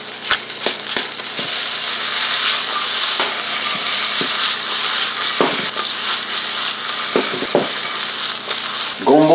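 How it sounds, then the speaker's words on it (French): Okra sears in hot oil in a Haitian Creole kitchen, a steady loud sizzle and crackle running throughout with scattered pops and stirring clatters. "Moi, je vais saisir gombo. L'huile est bien chaude."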